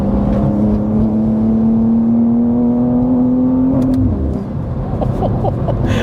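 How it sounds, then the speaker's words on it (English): BMW G87 M2 Clubsport engine revving up through upshifts, a loud rising engine note climbing steadily for about four seconds before a shift cuts it and the drive continues with road noise. "I love those upshifts"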